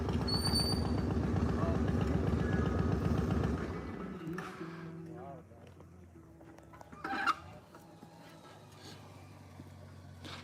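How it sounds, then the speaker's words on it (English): Several motorcycles idle loudly near a scenic mountaintop viewpoint, a heavy rumbling engine drone that cuts off after a few seconds. Quieter engine sounds, a short burst of noise and a low hum follow. "Got some motorcycles pulling in to look at the view."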